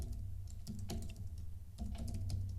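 Keys clatter on a Mac computer keyboard while C code is typed, a quick uneven run of close, soft clicks with a brief pause midway and no talk.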